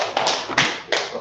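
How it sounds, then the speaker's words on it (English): Audience members clap in a few quick bursts, three loud sharp clusters of hand claps close by and bunched together, brief and punchy with no voices. "let's clap it up for Chupa Mapatiza"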